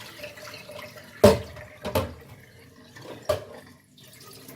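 Beef is washed in a cooking pot under running water, a low steady flow broken by several louder splashes and sloshes as the meat is handled, close by and with no speech.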